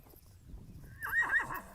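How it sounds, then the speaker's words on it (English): Horses on an Amish homestead farm give a loud, close whinny after a quiet stretch with faint hoof clip-clops. "They want to come see these horses."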